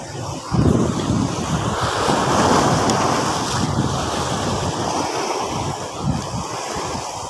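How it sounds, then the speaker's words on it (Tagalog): Sea waves crash and wash against a rocky shore, a loud, continuous surf roar that swells and recedes, mixed with gusty wind rumbling across the microphone, with no one speaking. "Ito lang yung alon."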